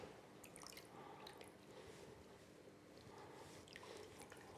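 Water drips and trickles faintly from squeezed, drained spinach in a kitchen, a soft steady wet patter with no talking.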